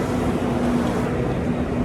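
A tractor carrying stones rolls past on a farm track, a steady, loud, droning engine rumble with a low hum throughout and no talking.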